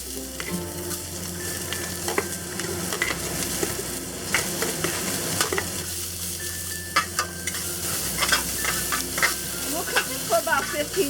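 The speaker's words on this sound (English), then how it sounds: "I have the pan set at medium-high heat, and we're gonna cook off the onions first." Chopped onions fry and sizzle in oil in a wok over medium-high heat for a stir-fry of eggs with barbecue pork and peas, a steady close crackling hiss broken by scraping stirs, with no talking.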